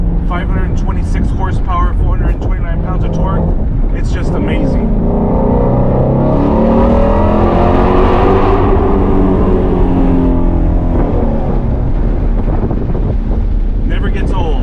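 A 2020 Shelby GT350 Heritage Edition's Voodoo 5.2-litre flat-plane-crank V8 swells through a rising rev sweep mid-clip and falls back, loud and close, with wind rush in the microphone and someone talking before and after.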